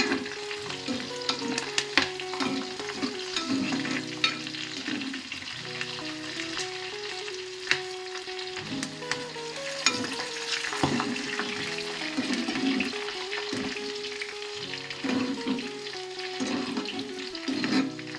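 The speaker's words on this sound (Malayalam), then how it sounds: "ഈ നമ്മൾ അരിഞ്ഞു വെച്ചിട്ടുള്ള പച്ചമുളക് വഴണ്ട് വരണം" Sliced green chillies and crushed garlic fry in a pan, a continuous close sizzle broken by repeated stirring scrapes and soft clatter throughout, with no voices.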